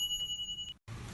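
A notification bell sound effect rings with a bright, sustained tone and a second high chime near the end, quick and clean, followed by a short silence and a low background rumble.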